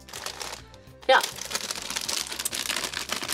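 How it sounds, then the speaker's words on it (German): A bag of lentil chips being cut open, the plastic crinkling and crackling in a loud burst that turns into continuous rustling handling under background music, with a brief spoken word. "Ich muss das aufschneiden, da ich keine Kraft habe. Ich kriege nicht meine Chips-Tüte auf."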